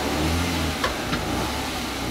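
Car engine revving steadily while held against an applied handbrake, a continuous close engine drone with a couple of faint brief clicks.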